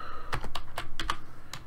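Quick bursts of computer keyboard typing, about eight sharp, irregular key clicks in under two seconds, close and clear with no talking.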